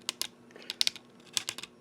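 A quick series of small, crisp clicks from a Transformers Combiner Wars toy's plastic joints, close and fairly quiet, arriving in uneven little clusters over a couple of seconds.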